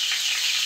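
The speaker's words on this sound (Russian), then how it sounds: "на той сковородке у меня чебуреки уже пожарились" Chebureki frying in oil in a pan, a steady close sizzling hiss that holds without a break for under a second.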